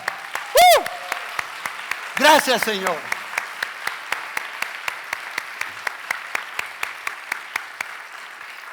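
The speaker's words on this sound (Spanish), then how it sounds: "Dale un aplauso a Jesucristo." Audience applause at a church service, a burst of clapping from the congregation with someone speaking briefly over it at the start and again shortly after, steady clapping continuing beneath.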